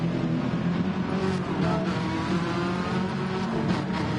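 A Toyota Supra GR4 race car engine drones steadily in Gran Turismo at Trial Mountain, a continuous loud engine note with no clear shifts or pauses.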